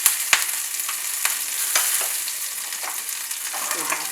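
Curry leaves, ginger and green chili sizzle in a hot oil tempering, a steady bright frying hiss broken by small crackles and pops, close and alone.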